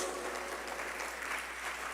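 Church congregation applauding in praise during a sermon, a soft, distant, even patter of many hands filling the room without speech.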